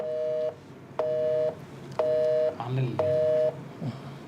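A telephone emits a repeating electronic tone, four evenly spaced half-second beeps about one second apart, loud and clear like a busy signal, with faint room noise in the gaps.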